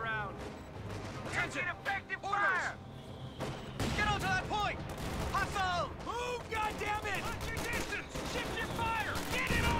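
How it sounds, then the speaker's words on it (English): Artillery and gunfire in the WWII strategy game Company of Heroes 2, scattered booms and shots under busy battlefield noise, with voices talking over much of it. "I can't believe the artillery's not fucking clearing it yet."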